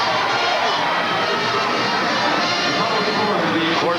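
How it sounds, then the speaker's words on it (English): A packed arena crowd at a 1991-92 Philadelphia Big 5 college basketball game roars in a steady, dense wall of cheering and shouting after a comeback win, with LaSalle fans among them. "the reason you hear some noise from the crowd is because a lot of LaSalle fans in there as well"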